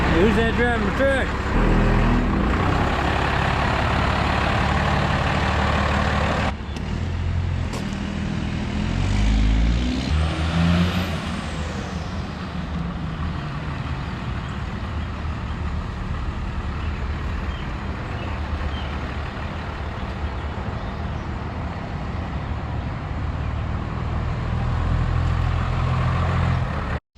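A squarebody crew cab truck built on a Dodge 3500 diesel chassis drives past with a loud, steady rumble that shifts and swells over several seconds, with voices talking over the engine noise.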